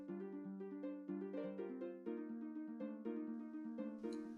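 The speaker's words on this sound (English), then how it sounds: "It's the sound of the note block." Minecraft note blocks play a quick, bright melody of plucked, bell-like tones in a steady rhythm, soft and unaccompanied by voices.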